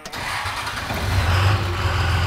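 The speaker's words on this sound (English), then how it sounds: "All right, fire it up." A Cummins turbo diesel in a restomod Dodge Power Wagon on 37-inch tires cranks and fires, settling into a loud, steady low-pitched rumble close by, with no talk over it.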